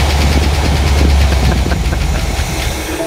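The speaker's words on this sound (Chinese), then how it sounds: "接着大卫尝试拧动启动钥匙，瞬间机舱内的发动机就有了回应" An abandoned Chevrolet Camaro, left in a barn for 11 years and primed with fuel poured into the carburetor, runs with a loud, rough, rumbling engine note, close and continuous.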